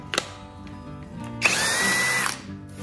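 A SKIL PWRCore 20v cordless drill bores through wood with a 7/8 paddle bit, a brief click followed by a steady, loud whining burst of about a second, then it stops.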